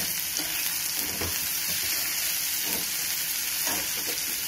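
A tablespoon of capsicum fries with browning onions in a pan, producing a constant bright sizzle punctuated by a few soft stirring scrapes, close and unbroken, with no talk.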